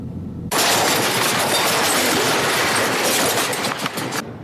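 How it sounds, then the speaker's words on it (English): Freight train boxcars roll past a crossing close by, a loud, sustained broadband rumble with rhythmic clattering of wheels over rail joints that starts abruptly and holds steady for several seconds before easing off. "There was no warning of the approaching boxcars."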